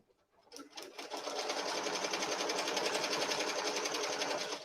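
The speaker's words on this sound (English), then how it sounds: "It's stitching." A home embroidery machine stitches a fall-themed design onto a towel. After a brief silence it starts up into a fast, steady, rhythmic needle chatter that holds at an even, close level with no talk.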